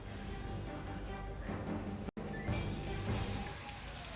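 Heavy monsoon downpour in Suigam, Banaskantha, Gujarat, with more than ten inches falling in ten hours. A steady, even hiss of rain continues throughout at a moderate distance, with one brief dropout midway.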